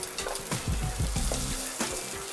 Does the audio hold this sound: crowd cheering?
no